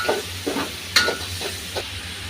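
Chopped onion and garlic paste fry in oil in a pan, a low steady sizzle broken by several distinct stirring scrapes of a spatula at irregular intervals, close and moderately loud.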